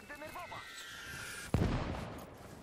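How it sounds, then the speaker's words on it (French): A single heavy boom from artillery in Call to Arms – Gates of Hell: Ostfront bursts out suddenly and rumbles away, following a stretch of quieter background noise and tones. "Enfin, ça bombarde."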